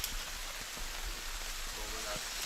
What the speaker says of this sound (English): the rain is starting to really come down